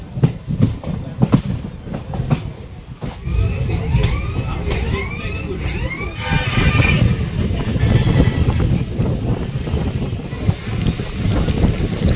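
A local passenger train running through a station, with loud rolling rumble, wind buffeting and clickety-clack of wheels, plus brief squealing tones from the wheels midway.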